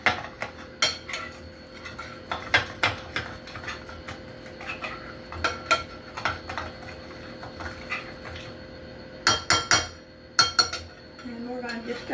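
Cinnamon roll filling stirred in a bowl, with a spoon clinking and scraping against the sides in irregular bursts, close and fairly quiet.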